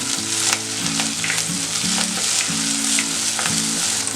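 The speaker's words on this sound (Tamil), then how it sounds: "இதுல நம்ம கொஞ்சமா கருவேப்பிலை போட்டு தாளிச்சிடலாம்" Curry leaves temper in hot oil with fried onions, giving a strong, continuous close sizzle. A low rhythmic hum runs underneath throughout.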